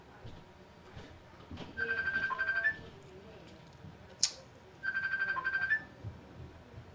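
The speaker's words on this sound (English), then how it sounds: "So wifey's not picking up the phone." An unanswered phone call rings out in two separate warbling bursts about three seconds apart, moderately loud over a quiet room background.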